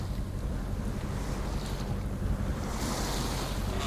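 Sea waves wash and surge around a heeling sailboat in rough water, with steady broadband sloshing and gusting wind buffeting the microphone throughout, no voices.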